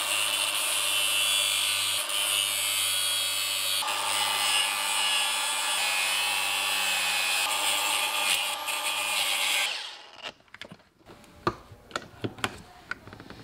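A power tool cuts small metal tabs off a Toyota Crown JZS171 pedal assembly, a loud steady whine for about ten seconds that stops abruptly, followed by scattered metallic clicks and taps.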